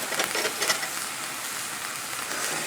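Brussels sprouts with brown sugar and cracked pepper stirred in a hot pan, a steady crackling sizzle with a few soft scraping strokes near the start.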